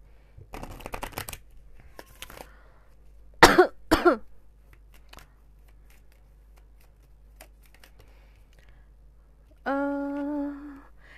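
A pair of quick coughs mid-way, surrounded by faint rustling and shuffling, with a steady buzzing tone near the end.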